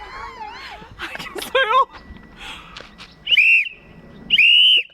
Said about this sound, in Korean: 타이타닉 호루라기